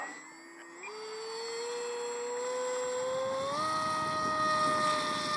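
Engine of the second Polaris plane off the production line on its maiden flight, droning steadily and fairly close, its pitch stepping up twice as the power increases, with no talk.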